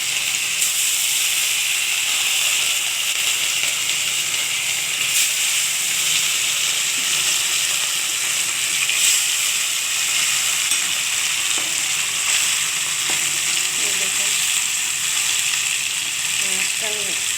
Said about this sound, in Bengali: এটা গরম হলেই আমি এটা মাছটা ভেজে নেব